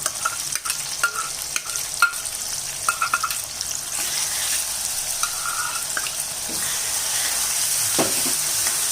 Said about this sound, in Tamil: இப்போ இந்த அரைச்ச வெங்காயம் பூண்டு இருக்குல்ல, அதை சேர்த்து வதக்கலாம்